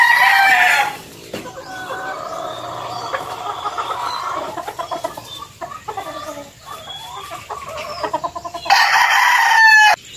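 Sweater gamefowl rooster crowing loudly at the start and again near the end, with softer clucking and bird chatter between the two crows, close by.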